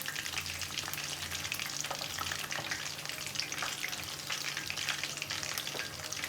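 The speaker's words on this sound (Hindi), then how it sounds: "इस तरीके से मैं बाकियों को भी फ्राई कर लेती हूँ" Chicken pakoras deep-frying in oil, a soft, steady bubbling crackle that stays even and fairly quiet from start to finish, with no voices.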